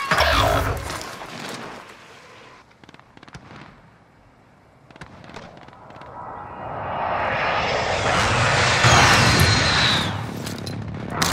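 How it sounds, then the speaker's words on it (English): An enemy UAV drone drones overhead during a Call of Duty: Modern Warfare match, a rising broadband roar swelling over the second half, preceded by scattered sharp bursts and quieter stretches. "Enemy UAV overhead."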